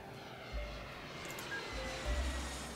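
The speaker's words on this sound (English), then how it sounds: "Big planes have to go to big airports." An airplane engine from the OpenTTD video game drones steadily and faintly, with low rumbling swells and no talk over it.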